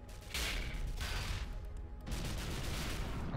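Video game gunfire aimed at drones rattles in dense, loud bursts, one burst early, another around the middle, then a longer sustained volley to the end.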